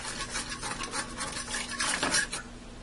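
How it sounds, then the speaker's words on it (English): Metal utensil scraping the bottom of a pan while hamburger steak patties cook, a steady close rasping and stirring that repeats through the stretch and swells near the end, with no talking. "Scraping the bottom while I do this to get more of that flavor up."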